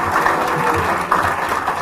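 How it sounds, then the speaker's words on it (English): Sustained applause from a conference audience at an investor feedback forum, a steady dense clatter of clapping hands filling the room for a couple of seconds without voices over it. "Big round of applause, please."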